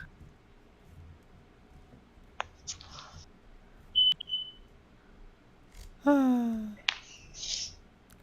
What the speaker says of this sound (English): Gab just had to turn off the fire alarm.